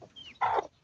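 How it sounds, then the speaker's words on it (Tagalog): A large Dumpo breed chicken gives a single short, close cluck, preceded by a faint thin chirp. "Ang laki. Ang laking manok."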